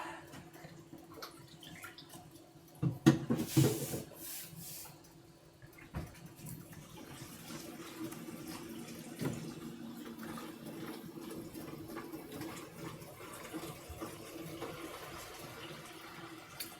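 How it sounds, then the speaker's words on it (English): A water bottle is filled from a tap, giving a faint, steady running-water hiss with a brief louder splash near the start, heard alone without talk. "Filling up your water bottle."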